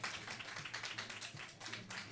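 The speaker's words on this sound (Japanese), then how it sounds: "皆さんそれでは大きな拍手をお願いします。" Scattered clapping from the audience at a Belgian cooking class during a Tokyo food festival as a chef is welcomed, a steady patter of many hands, moderately loud, with a faint voice underneath.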